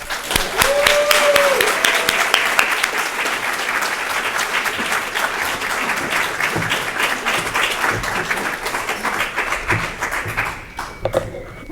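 Audience applause at a lecture event welcoming the artist Lita Albuquerque to the stage, a dense steady wash of clapping from a large room that fades near the end, with a brief voice early on.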